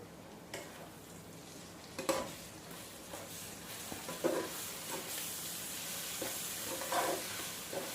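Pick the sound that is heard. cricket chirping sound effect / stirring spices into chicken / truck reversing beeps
stirring spices into chicken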